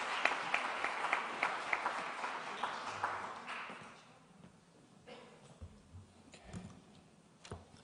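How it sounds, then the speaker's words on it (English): Applause from a conference audience at a cultural and creative crossovers session, a dense patter of clapping for about four seconds that then thins out into a few scattered claps and light room noise. "Round of applause."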